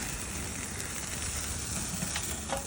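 Meat sears in a hot pan with a steady, close hiss and sizzle that holds evenly throughout without a break.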